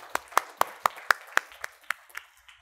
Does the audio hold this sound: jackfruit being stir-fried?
no